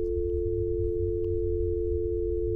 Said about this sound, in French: Ça sonne toujours.